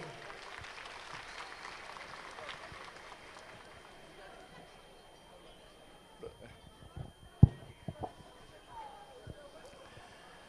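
A crowd applauds steadily at an iftar event, the clapping thinning out into scattered claps and a few louder, closer hits.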